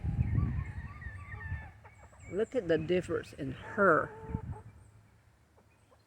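A Barred Rock chick and other chickens clucking and chirping softly under a woman's speech, with short bright calls bunching in the middle.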